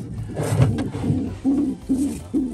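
Pigeons in a breeding loft in Canada during -30 °C cold give low, throaty coos, three short repeated coos following a denser burst of overlapping calling, close and moderately loud.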